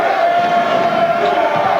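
More than 8,000 fans fill the SMU arena at a college basketball game between Fresno State and SMU, and their loud crowd roar holds steady and sustained throughout, with a faint cheer swelling briefly near the end.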